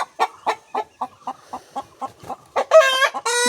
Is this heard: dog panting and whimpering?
no